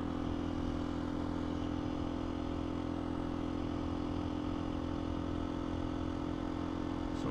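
A KTM 250 EXC-F dual sport motorcycle engine runs steadily at a constant idle, close and loud, with a faint clattering rattle throughout and no voices.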